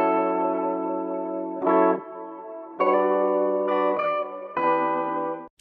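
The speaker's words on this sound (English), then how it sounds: "So without any processing, the guitar sounds like this." Unprocessed guitar loop for a modern emotional Afrobeats track, a clean sustained chord pattern played alone, each chord ringing out before a brief gap and change, ending abruptly.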